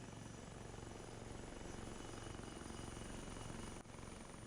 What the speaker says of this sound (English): Chopper's just arrived.